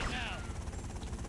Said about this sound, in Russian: Так, уже вертушка прилетела.